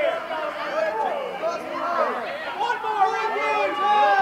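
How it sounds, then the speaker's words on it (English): A crowd at a 3XW independent wrestling match chants together in a loud, sustained roar of many voices, with a commentator's voice mixed into the din. "Crowd chanting for one more."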